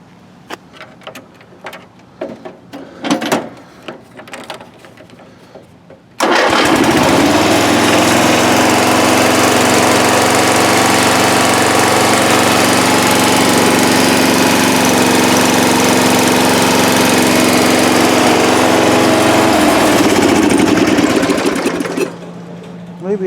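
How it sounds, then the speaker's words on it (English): After some clattering, a repaired lawn mower engine starts and runs loud and steady with a constant droning buzz for nearly twenty seconds before cutting off. "hopefully with a running lawnmower without a death rattle"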